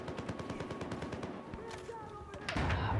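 Gunfire in Battlefield 4 crackles in quick, rapid repeated shots followed by scattered blasts, fairly faint and busy with game noise.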